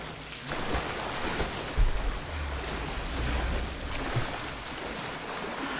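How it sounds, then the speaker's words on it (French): Crashing tide waves in the Tomb Raider video game, a steady roar of surf and rushing water with rain-like spray, swelling briefly a few times and continuing without speech. "La marée."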